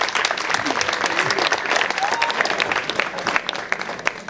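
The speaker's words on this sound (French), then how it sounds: "Je voudrais qu'on applaudisse d'abord pour les couples," Wedding guests applaud the couples at a religious wedding ceremony, a steady dense clapping that fills the room throughout, with scattered voices and cheers mixed in.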